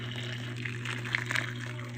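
Boiled water poured into a container while making a herbal drink for lowering uric acid, a soft steady liquid splash over a low constant hum, with a few brighter splashes near the middle.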